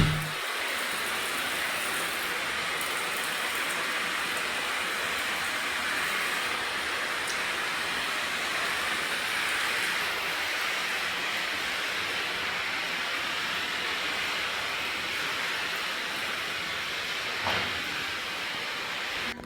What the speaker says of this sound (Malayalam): നല്ല മഴ പെയ്യുമ്പോൾ എടുത്തൊരു വീഡിയോ ആണിത്